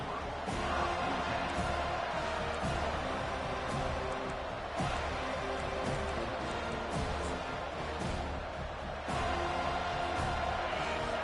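A stadium crowd in a college football video game, FSU against Texas A&M, cheers in a dense, loud roar that keeps going, with bursts of louder swells and no speech over it.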